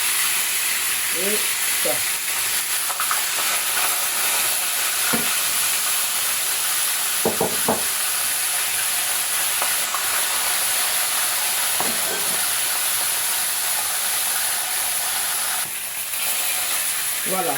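Salted fish frying in hot oil, a steady broadband sizzle running the whole time, with someone speaking briefly and occasional utensil clicks over it.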